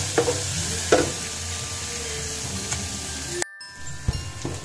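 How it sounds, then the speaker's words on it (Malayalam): Chicken and onions sautéing in a pan for pepper chicken, with steady close frying sizzle and a few sharp scrapes and knocks of stirring, a brief dropout near the end. "നന്നായിട്ടൊന്ന് ഇളകി കൊടുത്തുകൊണ്ടിരിക്കുക"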